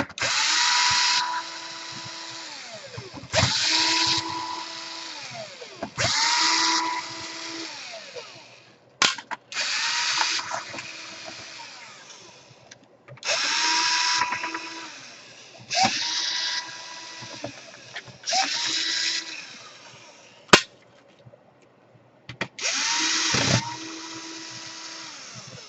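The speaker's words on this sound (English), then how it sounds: "So every screw you see here, you just unscrew it." Power screwdriver backing screws out of the underside of a Dell Inspiron 5720 laptop during a power jack repair, running in repeated whirring bursts of a few seconds each with brief pauses between them.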